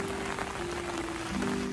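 Heavy rain falls outdoors as a steady, even hiss of drops on surfaces, fairly quiet overall, with a faint constant hum underneath and no talking.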